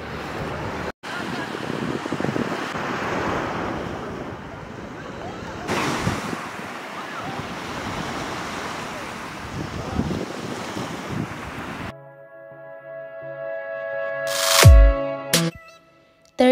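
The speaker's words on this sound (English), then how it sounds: "White sand from volcanic eruption million years ago. That's the sea." Surf breaking on the white volcanic sand of Patara Beach, Turkey, a steady wash of waves mixed with heavy wind buffeting the microphone, then fading as sharper tonal sounds take over near the end.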